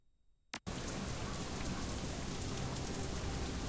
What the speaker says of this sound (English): Foul, oily water rains down from above, mixes with the filth and offal and swill on the streets.